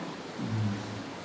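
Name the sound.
rain falling nonstop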